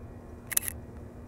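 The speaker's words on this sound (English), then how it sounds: "permeate this with the sound of this Leica M10 shutter" A single crisp shutter click from a Leica M10 rangefinder camera, quick and close, with a faint secondary mechanical whir, set against a quiet low hum.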